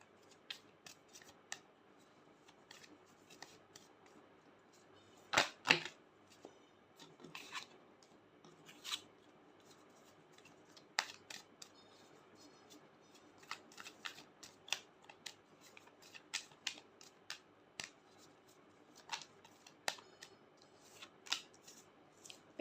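Tarot cards are handled quietly at close range. There are soft riffles and flicks, one louder shuffle burst, then scattered light snaps and slides as individual cards are drawn and laid down. No one speaks.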